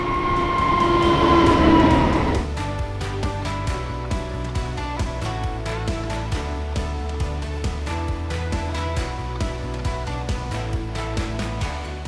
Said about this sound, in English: This is the train that we're going in.